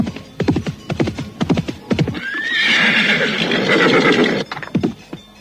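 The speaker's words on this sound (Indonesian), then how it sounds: "Siapa orang berkuda itu?" A horse gives a long, loud neigh in the middle, framed by sharp, rhythmic hoofbeats clip-clopping close by before and after it.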